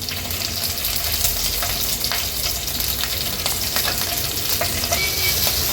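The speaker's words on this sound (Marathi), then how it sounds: "तेल गरम झालंय आता फोडणीला आपण ह्या लसणाच्या पाकळ्या आणि मिरच्या घालणार आहोत" Garlic cloves and green chillies sizzle steadily in hot oil for a fish curry tempering, a loud, continuous crackling hiss with scattered pops throughout.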